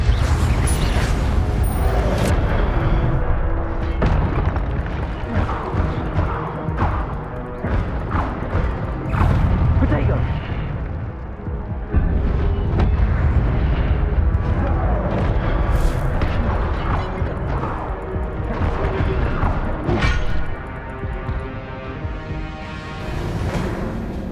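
Incendio fire spell cast in Hogwarts Legacy during combat, with loud, dense booms and crashing impacts repeating throughout a long, continuous stretch of battle noise.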